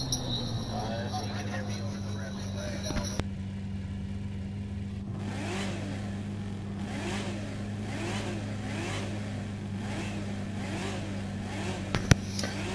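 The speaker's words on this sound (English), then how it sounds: "If you can hear me over the revving right now" A car engine in the video game The Crew 2 revs over and over in rising and falling surges above a steady low engine hum. It plays at moderate volume throughout.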